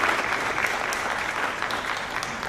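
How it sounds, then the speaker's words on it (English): Audience applause fills a university honors convocation hall, a steady dense clapping from a crowd that holds evenly throughout with no voices over it. "thank you for the round of applause"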